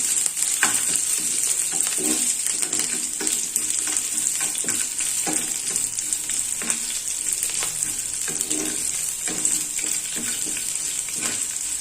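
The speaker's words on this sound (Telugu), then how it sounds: "ఇలా వేసుకున్న తర్వాత మీడియం ఫ్లేమ్లో పెట్టుకొని తాలింపు వేసుకొని చక్కగా కలుపుకుందాం" Urad dal, curry leaves and garlic frying in hot oil over a medium flame as a tempering for tomato mint chutney, a steady close sizzle with occasional stirring scrapes, no talk.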